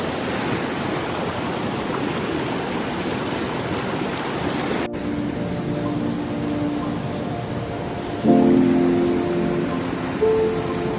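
Loud, steady rushing of a fast mountain river in Sikkim fills the first half, then cuts to a quieter, more distant wash of water with faint tonal sounds rising over it near the end.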